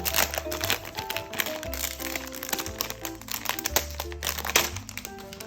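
Plastic packaging on a small Daiso A7 diary is torn open with loud, close crackling and crinkling bursts over soft background music.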